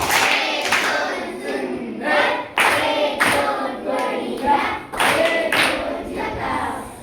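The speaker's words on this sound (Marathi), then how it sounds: "त्या दादासाठी जोरदार झकास टाळी" A group of children claps in several loud bursts of applause for a boy, with a few brief pauses between them and some excited voices mixed in.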